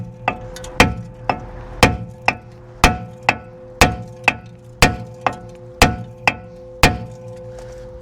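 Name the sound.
copper hammer striking brake disc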